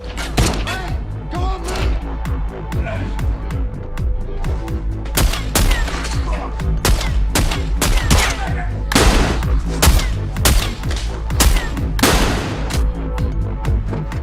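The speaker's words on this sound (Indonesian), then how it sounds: "Alhasil terjadilah saling baku tembak." An exchange of gunfire in a film scene, with dense bursts of rapid shots and heavy thumps firing in irregular volleys over a constant low rumble.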